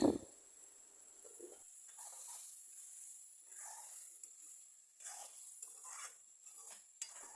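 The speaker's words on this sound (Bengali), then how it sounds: "তরকারিটা কিছুক্ষণ নেড়ে চেড়ে কষিয়ে সিদ্ধ করে নেব" Fish curry stirred in a pan, a soft bump at the start followed by quiet scraping and gentle simmering hiss, faint and intermittent with no talk.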